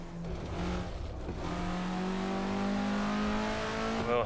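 An Alfa Romeo GTA drifts around the Thomson Road track in a racing video game, its engine holding a loud, sustained whining drone that climbs in pitch near the end, with no voices.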